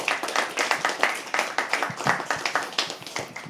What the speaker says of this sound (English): Can we please have another round of applause for him?